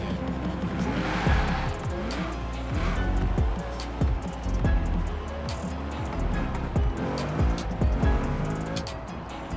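Race car engines roar and rev continuously in Forza Horizon 4, a modified Nissan GT-R R33 with a swapped engine, with tire squeals and skids cutting through the steady, loud engine noise.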